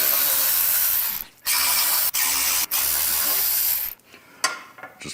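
A ratchet works loose Torx 27 fender bolts on a Softail motorcycle. It makes several rapid, close clicking bursts separated by short pauses, then lighter taps.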